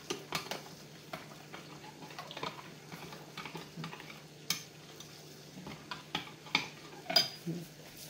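Spoon stirring yellow mustard and nutritional yeast into a vegan cheese sauce in a pot, with irregular scraping and clinking against the metal sides over a soft simmering sizzle, close and moderately quiet.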